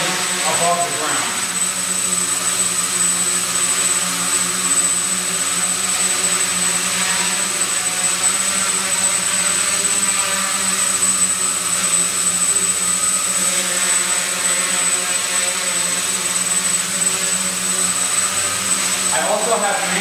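A quadcopter drone hovers and flies with altitude hold, giving a loud, steady, high-pitched motor and propeller whine with a constant buzzing tone that holds throughout the clip, slight pitch shifts near the start and end.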